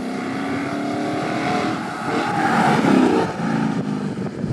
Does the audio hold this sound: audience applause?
no